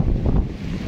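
Strong wind at a Maldives resort built on stilts over the water, a steady loud rumbling buffet against the microphone for the whole second, with no talking.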